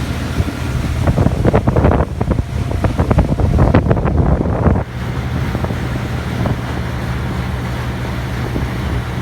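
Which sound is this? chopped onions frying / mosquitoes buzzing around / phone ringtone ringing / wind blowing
wind blowing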